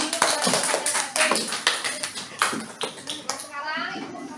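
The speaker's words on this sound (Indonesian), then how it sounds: "Tepuk tangan dulu kepada Sade" Classroom children clap their hands in a quick burst of sharp, irregular claps, loud and close, mixed with children's voices chattering throughout.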